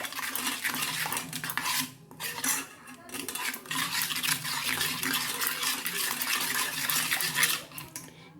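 Salt and turmeric are mixed into oil for steamed hilsa. Spoon and metal-bowl clinks and scraping stir on and off at close range, with brief pauses between bursts and no voices.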